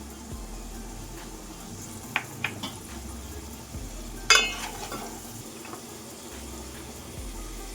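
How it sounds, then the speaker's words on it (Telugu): Curry leaves dropped into hot oil for an Andhra-style fish pulusu, giving a faint steady sizzle with a few sharp pops and crackles partway through, heard alone without talk. "కరివేపాకు కొంచెం వేద్దాం."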